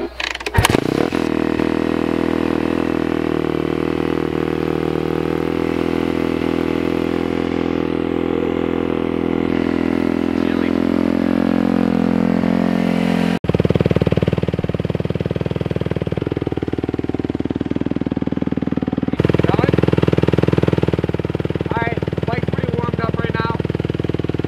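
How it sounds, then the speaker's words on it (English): A dirt bike engine idles and warms up on a cold day, a loud steady running drone close by that shifts pitch partway through as the throttle changes. "I'm gonna get the bike warmed up and then show you guys some wheelies"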